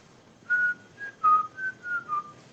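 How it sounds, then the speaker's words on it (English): A person whistles through lips held off center, producing a series of short clear tones at shifting pitches, close and fairly quiet with no talking. "I don't whistle like normal people whistle."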